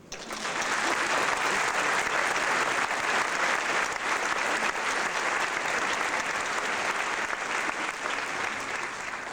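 A graduation audience at the 1994 OHHS high school ceremony applauds in a steady, dense, sustained wash of clapping lasting around nine seconds, with faint crowd murmur and no clear speech.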